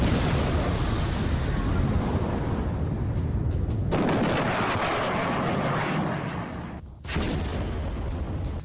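Controlled detonation of about 150 collected unexploded bombs at a demolition site: a sustained, massive roaring blast rumble that drops away briefly, then a second powerful blast surges back.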